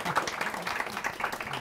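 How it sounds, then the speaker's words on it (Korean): Short burst of audience clapping welcoming the main guests at a talk event, moderate and steady, with some voices mixed in. "오늘 메인 게스트 여러분들 박수 부탁드리겠습니다."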